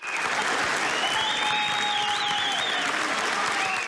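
A crowd at a public meeting about a highway project bursts into steady, loud applause with scattered whoops over it, continuing throughout before cutting off.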